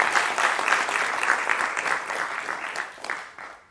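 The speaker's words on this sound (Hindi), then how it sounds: "जरा जोरदार तालियों से स्वागत हो।" Loud audience applause welcoming the famed storyteller Indresh Upadhyay Ji Maharaj on a studio show, a full, even roar of clapping that stays strong before easing off at the close.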